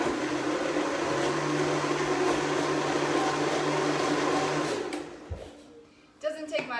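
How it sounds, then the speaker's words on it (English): Countertop blender whirring loudly while mixing homemade ranch dressing with the lid set loosely on top, a steady droning motor for several seconds that winds down and stops, followed by faint clatter. "I am slightly putting my lid on my blender because sometimes my blender has a mind"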